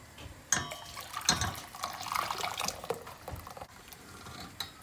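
A mixture being poured into a pot of tomato soup, a close liquid stream with splashy gurgling and a few drips, fairly soft and steady with no talking.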